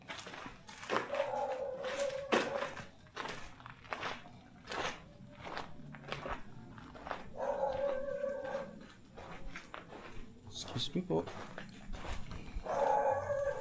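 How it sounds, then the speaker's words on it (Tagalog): A dog howls and barks at a cemetery: drawn-out howls rise several times between barks, fairly near, with footsteps and a brief spoken voice. "Naku, may aso na naman."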